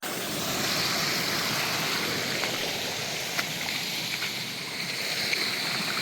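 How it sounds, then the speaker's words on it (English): Water rushing through a gold prospecting sluice in Southern California, a steady loud broadband roar of churning flow with occasional small splashes and clinks, no speech. "My sluice is raging."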